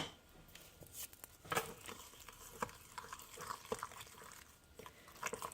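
Vegan tofu misozuke creamed cheese being stirred with sugar, giving soft, irregular wet taps and scrapes, close and faint, coming in scattered little clusters.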